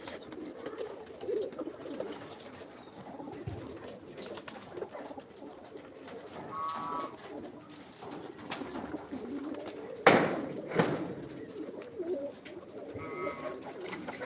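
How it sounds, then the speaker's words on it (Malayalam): White pigeons cooing in a cage, soft repeated low coos spread through the clip with a sharp knock near the middle and faint outdoor background. "വൈറ്റ് പ്രാവുകളെ ഇതിലിട്ടിട്ടുണ്ട്"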